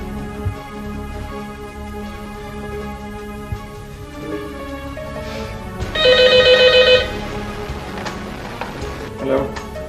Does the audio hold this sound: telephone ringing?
yes